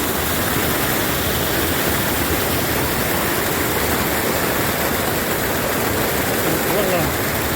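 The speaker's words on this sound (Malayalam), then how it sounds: "ഈ പാലത്തിന്റെ സൈഡിൽ തന്നെ കണ്ടില്ലേ അടിപൊളി വെള്ളച്ചാട്ടം" A small waterfall beside a bridge at Thommankuthu in Idukki gives a constant, loud, close rush of falling water that stays unbroken from start to finish.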